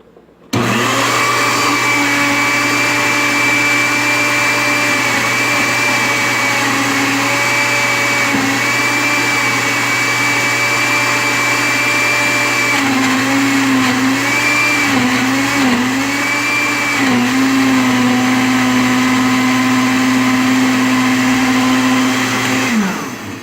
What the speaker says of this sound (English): I'm going to select the grind option on my blender.